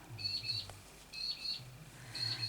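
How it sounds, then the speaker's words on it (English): Small birds chirping outdoors in short, bright bursts that repeat three times, fairly faint over a low background rumble. "and the birds are screaming"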